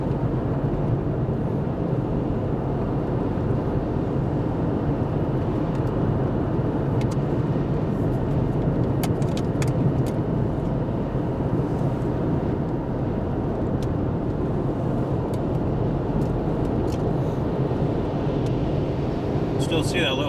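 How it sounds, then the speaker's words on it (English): Steady low road traffic rumble continues throughout from near the roadside, with vehicles moving past a parked trailer and no clear break in the noise. "We're gonna let some traffic come on by."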